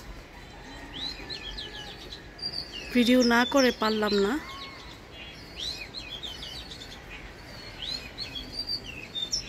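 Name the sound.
oriental magpie-robin (doyel) singing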